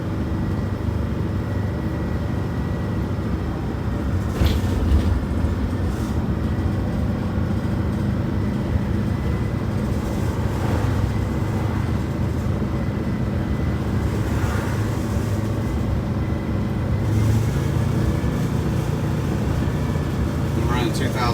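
A truck engine drones steadily at about 2,000 RPM in second gear while climbing a hill, a continuous low rumble filling the cab with little variation, and voices talk over it.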